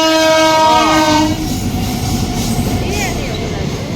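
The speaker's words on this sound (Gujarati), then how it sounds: "ઓહો બહુ મોટી ટ્રેન" A loud, close train horn blares, then a long two-engine train rolls past in Gujarat with rumbling wheels and clacking, the horn sounding again more faintly.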